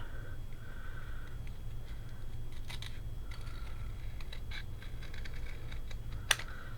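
Scissors cut a paper circle out for a pop-up flower card: quiet, intermittent snips and paper rustles, close by in a fairly quiet room.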